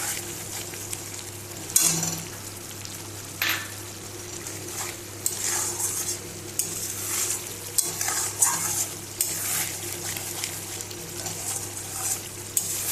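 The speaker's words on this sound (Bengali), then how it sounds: "ঝোলটা ফুটে উঠেছে।" Dahi katla fish curry broth bubbling in a pan, with a steady soft sizzle and simmer throughout and occasional stirring or utensil scrapes breaking in; no talking.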